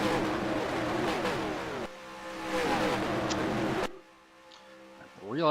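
Old NASCAR race cars roar into turns 1 and 2, engines droning and shifting pitch through several abrupt cuts, with a commentator's voice running over the track noise before it drops away.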